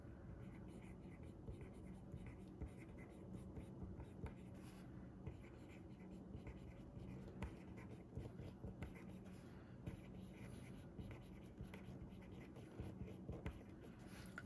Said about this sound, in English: let me just go ahead and write all of these down.